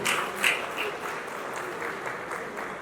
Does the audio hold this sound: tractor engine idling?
no